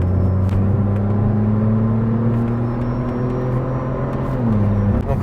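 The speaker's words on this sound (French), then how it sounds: "Maintenant, là, on va la passer en mode sport. Donc c'est là où les valves vont s'ouvrir." Smart Brabus in sport mode with exhaust valves open, a close, steady droning engine note with a deep rumble holding nearly level, dipping briefly near the end before a sharp blip.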